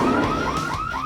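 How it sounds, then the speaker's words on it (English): A store security alarm in the video game Record Shop Simulator goes off, a loud, steady electronic warble of repeated rising tones sweeping over and over without pause, with no talking. "they walk out here and the alarm goes off"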